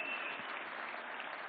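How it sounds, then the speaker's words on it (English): Sustained audience applause at an award ceremony honoring actor Allu Arjun for Pushpa, a dense, steady wash of clapping hands with no gaps from start to finish. "certainly deserves another round of applause"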